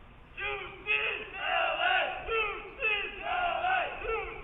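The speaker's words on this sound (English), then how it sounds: "Here the Bruins cheering loudly if you have the volume turned up in this one." At a college tennis match between USC and UCLA, a crowd of Bruins fans cheers loudly in rolling waves of shouting and chanting, rising and falling several times with no pause.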